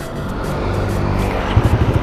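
A Suzuki Satria FU 150cc motorcycle engine cranks and catches, a steady idle giving way to a few quick revving pulses near the end, close and fairly loud.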